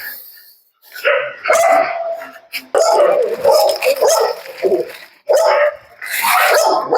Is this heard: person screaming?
no